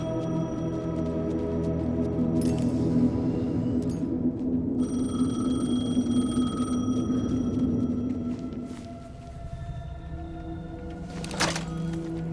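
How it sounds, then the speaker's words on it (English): In the Alan Wake 2 video game, an old telephone rings in long, steady electronic tones over a low ambient hum, then breaks off with a few thuds and clicks. "phone was ringing."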